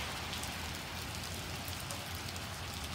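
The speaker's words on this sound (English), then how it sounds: "boom, the sun go away, and we got a rainy day" Steady rain falls on a surface, a dense, even hiss of drops pattering close by with no pauses, quiet and alone throughout.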